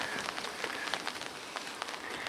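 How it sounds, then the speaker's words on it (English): Rain pattering on an umbrella held overhead outdoors in the English countryside, a dense, close crackle of drops with occasional sharper taps, steady throughout. "I've got a brolly over me because it's raining."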